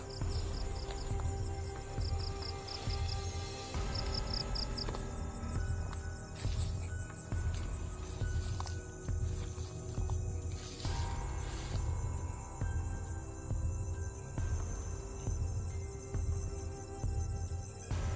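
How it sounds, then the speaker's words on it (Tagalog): Steady insect chirping fills a quiet outdoor night, with faint rustles and small knocks nearby; no talking. "May naririnig lang akong mga kuliglig."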